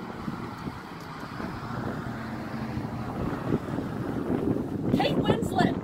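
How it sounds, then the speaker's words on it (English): Wind blows in Colorado, a gusty, rumbling rush buffeting the microphone that grows rougher and louder toward the end. "Colorado, where the wind blows."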